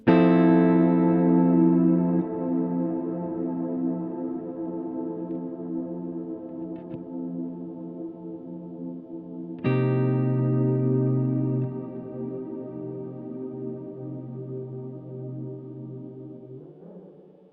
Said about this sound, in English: You can bring the tone all the way down with a high decay and hear the reverb continue to get darker as it regenerates.